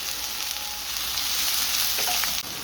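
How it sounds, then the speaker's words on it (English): Onions saute in a hot pan for a Birmingham balti with a loud, continuous sizzle and hiss, close up and unbroken, with a brief utensil scrape near the end and no voices. "As we're sauteing those onions, we can add salt to taste."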